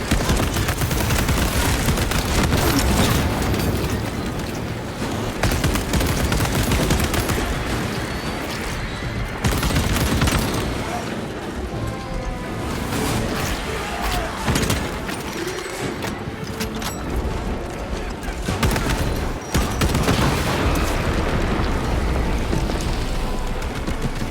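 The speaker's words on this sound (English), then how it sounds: "Frag grenade deployed." Frag grenade blasts and heavy gunfire in Warhammer 40k Space Marine 2, a dense, loud barrage of booms and rattling shots that barely lets up.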